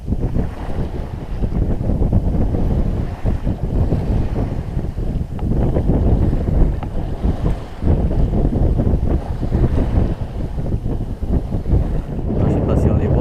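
Strong wind buffeting a sailboat at sea off Corsica, a loud, constant rushing roar with gusty microphone noise and water sounds beneath, continuous throughout.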